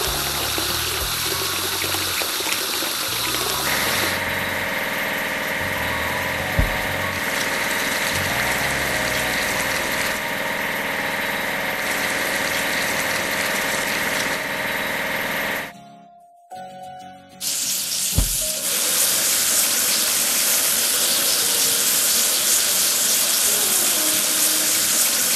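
Water spray washing a construction vehicle in a kids' construction video game, a steady loud hissing gush over a droning pump or engine tone, briefly cutting out near the end and then resuming, no voices.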